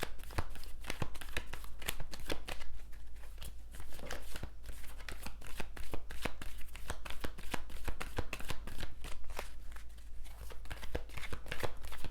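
Tarot cards being shuffled during a reading, a steady run of dense, crisp riffling and slapping card sounds that carries on close and loud throughout, with no voice over it.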